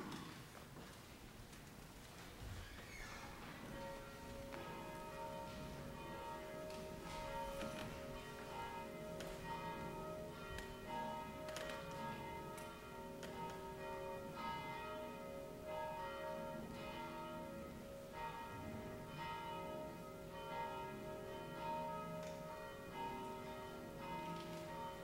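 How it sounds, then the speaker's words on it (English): Lutheran church bells ring out continuously, several tones overlapping in a steady, resonant peal that carries from a distance and keeps going. "we attend to the ringing of the bells"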